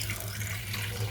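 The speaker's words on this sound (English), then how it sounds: "To make it faster, you can fill your sink with" Water running from a kitchen tap into a sink, a steady close rushing stream with a low hum beneath, continuous throughout the short clip and without talk.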